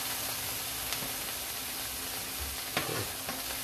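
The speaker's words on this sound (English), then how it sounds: "I'm gonna just sear off that garlic a little bit" Minced garlic sears in a pan for seafood mac and cheese, giving a soft, steady sizzle at low level with a few faint clicks of utensils and no talking.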